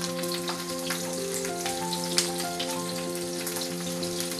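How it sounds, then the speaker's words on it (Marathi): Diced capsicum and onion petals fry in a pan for dhaba-style shimla mirchi batata, giving a steady, soft sizzle with faint crackles and a few stirring clicks underneath. "आता यामध्ये मी शिमला मिरची घालतो आहे."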